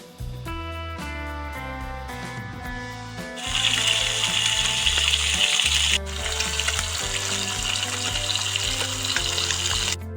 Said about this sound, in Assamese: তেলখিনি গৰম হোৱাৰ পাছতে মই মাছখিনি এপিচ এপিচকৈ ফ্ৰাই কৰি লওঁ।